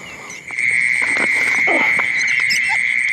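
Frogs croak in a rice field at night over a constant high shrill chorus of insects, with several short, rough croaking calls standing out in the middle of the clip, fairly close and without talking.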